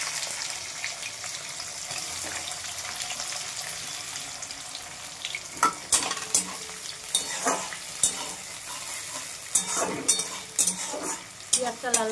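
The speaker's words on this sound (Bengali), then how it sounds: "পেঁয়াজটা লাল লাল করে একটু ভেজে নিই" Chopped onions fry in hot oil with bay leaf and dried chilli in a pan for mutton keema ghugni, a steady sizzle broken by repeated scraping stirs and clinks of the spoon in the second half.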